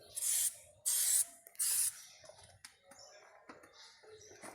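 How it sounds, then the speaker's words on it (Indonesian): Brake cleaner sprayed onto a rear wheel brake drum assembly, three loud, close hissing bursts in quick succession, followed by quieter handling and rubbing noises. "semprot terlebih dahulu menggunakan brake cleaner"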